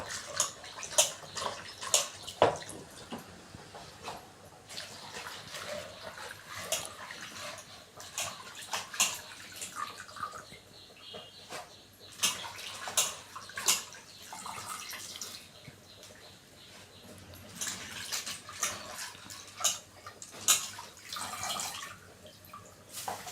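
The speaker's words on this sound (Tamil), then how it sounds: "இப்போ தண்ணியில் போட்டு நல்லா அலசிக்கிறோம்." Spinach leaves being swished and rinsed by hand in a bowl of water in a home kitchen, with soft repeated splashes, drips and sloshing bursts at close range, no voices.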